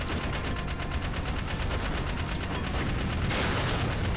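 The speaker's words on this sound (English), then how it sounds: "Oh, they shoot catapults too." Enemy catapults in Jak and Daxter fire in a steady dense rattle of repeated launches. The volley stays loud and continuous throughout and sits over constant noise, with no voice present.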